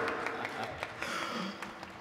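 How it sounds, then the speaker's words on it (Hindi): Audience applause at a political speech, a brief, moderately loud burst of clapping with a voice over it. "तालियां।"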